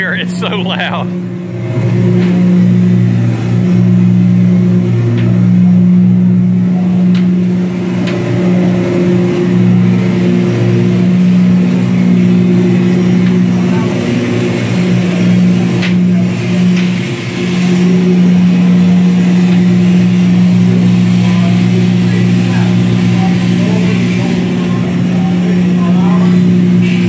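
A diesel generator drones loudly and continuously in the aft engine room of the USS Laffey, a heavy low hum with steady mechanical whine throughout.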